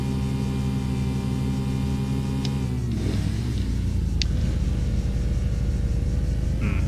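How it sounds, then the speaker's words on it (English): A Porsche race car in Need for Speed: Porsche 2000 holds its engine at the rev limiter, a loud, sustained buzzing drone that shifts into a deeper rumble midway, with a couple of brief clicks and no talking. "I'm basically on the rev limiter with this thing"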